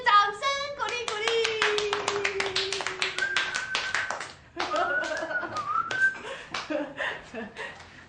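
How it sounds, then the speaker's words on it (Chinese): A classroom of children claps to welcome a new teacher, a quick run of sharp, close hand claps. A bright whistle-like tone and voices sound over and between the claps. "那我们现在就来欢迎新老师那个张玉秀老师，掌声鼓励鼓"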